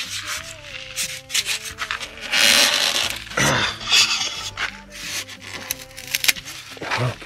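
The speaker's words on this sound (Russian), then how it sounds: "Сейчас попробуем его оторвать. Держится чисто на клею." A small sawn-off piece held only by glue is pried loose while preparing a DIY cellar for brick walls: rough scraping and rubbing with irregular creaking bursts, fairly close and continuous, with no talking.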